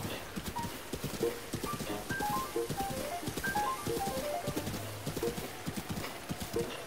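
Horse hooves clip-clopping in a steady galloping rhythm while riding in the video game Breath of the Wild, with soft musical notes scattered over the hoofbeats.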